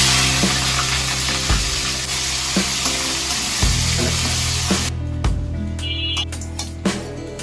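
Meat that was fried earlier sizzles in a pan after fried onions are added, a steady crackling hiss with periodic scraping stir strokes, then a quieter stretch near the end.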